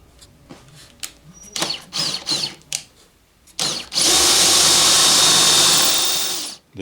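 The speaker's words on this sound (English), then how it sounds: "I'm going to go ahead and drill a slot for each of those screws." Short bursts of a power drill whir on and off a few times, then one long, loud continuous run drilling screw holes for wall robe hooks that stops abruptly.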